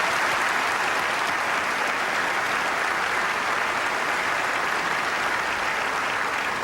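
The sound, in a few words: audience applause for the NASCAR Winston Cup champion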